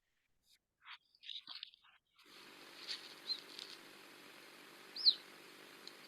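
Mountain lion kittens in the Sonoma County brush give a few high, thin, bird-like chirps and squeaks, faint and scattered, with one sharper call near the end over a quiet hiss.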